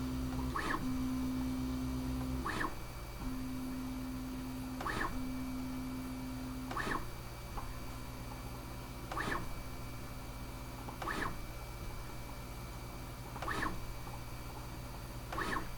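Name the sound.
Bambu Lab A1 Mini 3D printer printing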